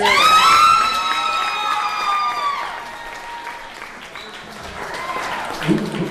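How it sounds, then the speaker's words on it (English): Wedding guests applaud and cheer after the matron of honor's speech, a loud burst of clapping with whoops that fades gradually, then chatter and scattered voices near the end. "Big round of applause for our matron of honor over here"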